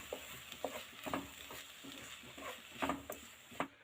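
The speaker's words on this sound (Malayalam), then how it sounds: "നന്നായി ഇളക്കി യോജിപ്പിക്കാം." A spoon stirs a green gram sweet filling for sugiyan in a pan, making close, intermittent scraping and soft sticky patters at an uneven rhythm with no talk.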